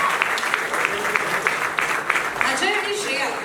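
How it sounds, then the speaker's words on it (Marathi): Audience applause at a film trailer launch, a brisk spell of clapping from a moderate crowd with a voice speaking over it. "एकदा अजय अतुल यांच्यासाठी टाळ्या व्हायलाच पाहिजे."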